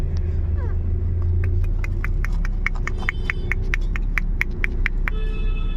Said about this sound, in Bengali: আমরা এখন যাচ্ছি গাড়িতে করে